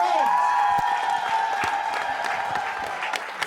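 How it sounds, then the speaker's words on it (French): Crowd of supporters at a women mayors' association visit in Nkongsamba applauding a militant, dense clapping with scattered cheers and whoops, sustained and fairly loud, with a voice over it. "je vous demande d'applaudir cette vaillante militante"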